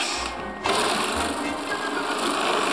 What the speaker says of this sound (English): put it in a food processor